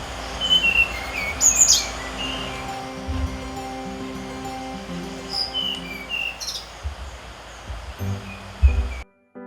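A mangrove blue flycatcher sings, bright, high chirps and short whistled phrases ringing out intermittently over a soft, rustling outdoor background.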